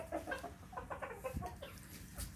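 Chickens cluck on a Vietnamese farm with red-headed and silvery-white birds, a busy run of short clucks and calls, fairly near but quiet, with no talk over them.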